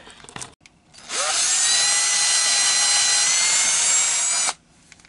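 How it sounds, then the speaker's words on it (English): A power drill spins up and grinds steadily for about three seconds at close range, a high whining buzz, then stops, while drilling out a broken bolt on a Honda ATC200S front suspension. "start the drilling"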